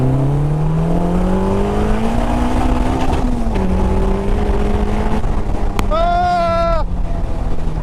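Caterham 420R engine revving hard through the gears toward its limiter, rising whine climbing steadily, dipping at shifts, then a sharp high buzzing burst near the end, loud and close with no talk.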